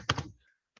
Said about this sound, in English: once it's logged in, we have to type the command debug